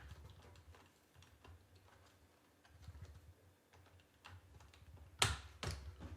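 Sweeper brushes on a Eufy RoboVac 12 robot vacuum being pushed onto their drive motors, light plastic ticks and taps close up, ending in a sharper double snap near the end, with no talk.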